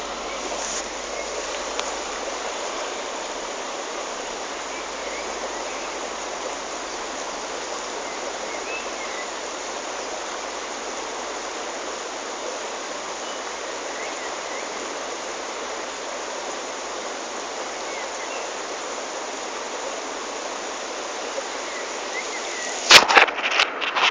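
A river runs past the bank in a steady, broadband rush that stays even and fairly close throughout, with a few brief clattering handling noises near the end.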